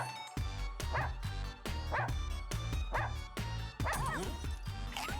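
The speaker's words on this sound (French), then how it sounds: "il y a des chiens qui sautent carrément pour récupérer votre bouffe" Cartoonish dogs from the video game Russian Subway Dogs bark, yip and whimper in quick repeated bursts over game music, fairly close and lively, with a voice faintly underneath.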